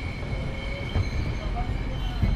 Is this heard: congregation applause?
no